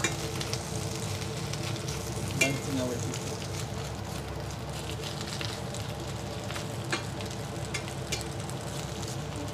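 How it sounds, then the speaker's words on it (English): Spinach sizzles steadily in a hot pan, a soft continuous crackle and hiss with a few brief clicks, while a voice talks faintly underneath. "the spinach is starting to cook"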